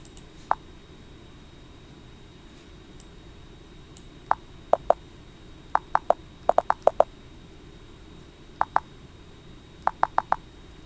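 Computer keyboard keys are tapped in scattered short bursts, crisp individual clicks spaced irregularly over a faint steady hiss, some rapid clusters of three or four strokes.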